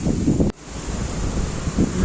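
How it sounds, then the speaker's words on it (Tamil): Strong wind gusts buffet the microphone outside a Tamil village temple, a steady roaring rush with a brief dropout partway through and low rumbling surges. "நல்லா காத்துருக்குது."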